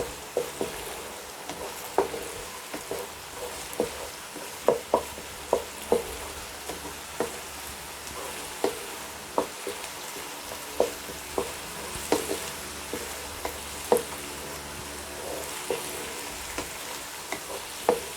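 Steady frying sizzle from a pan while cooking restaurant-style egg chicken fried rice, with repeated clinks and taps of a spatula stirring throughout, fairly close and without talk.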